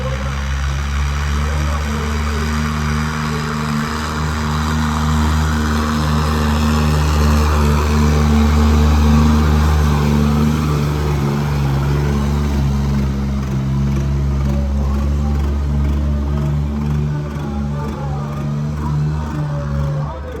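An Indofarm tractor with a faulty turbo strains at a tractor pulling contest at a rural fair, its engine droning loud and steady with rising revs, and a voice is faintly heard under it.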